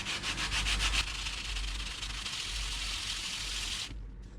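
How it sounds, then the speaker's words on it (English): A coaster piece is wet-sanded in water, giving a steady, gritty rubbing hiss with rhythmic strokes early on, close and continuous, then cutting off abruptly near the end. "keep the piece on the water and then sand it."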